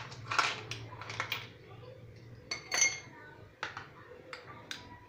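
Ice cubes drop into a serving glass for homemade watermelon juice, a string of sharp close clinks and knocks spaced unevenly over a few seconds.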